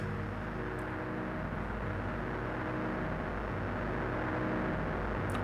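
A Digitakt pad sample, bit reduced and played at very slow speed, forms a dense, steady, gritty drone with low sustained tones beneath a noisy wash, unbroken and even throughout.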